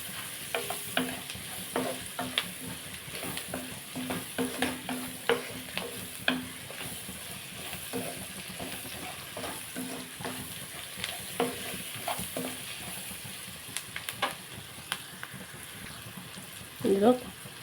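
Curry leaves are stirred and fried in a pan for a dried shrimp curry, giving a steady sizzle broken by repeated scraping stir strokes, with a faint voice now and then.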